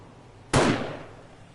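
A single sharp gunshot in the video game 7 Days to Die cracks loudly out of near-silence and fades out over a short tail, with no voices.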